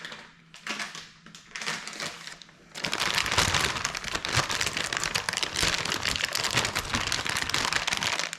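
Plastic packet of short cut bacon crinkled and handled in a kitchen, a dense, close rustling crackle that starts faintly then grows loud and continuous with no talk.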